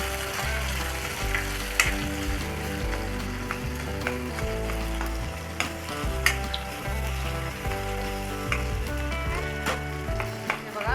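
Black chili powder fries in hot oil for a Maharashtrian egg curry in black masala, a loud, continuous sizzle with rhythmic scraping and stirring knocks, no speech.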